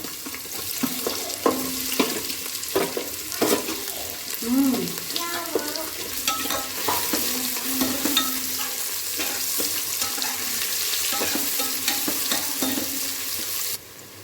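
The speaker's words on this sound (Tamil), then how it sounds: "இப்போ வெங்காயத்தை போட்டு வதக்கிடுங்க" Onions sauté in a pan of hot oil for pulao, a close, steady sizzle and crackle with the scrape and stir of a spoon throughout. The sound is fairly loud and carries no talk.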